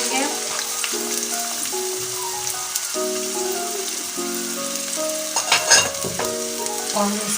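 Three large chopped onions sizzle steadily in a hot pan, with a spoon or spatula scraping and stirring through them now and then, close up and with no talking.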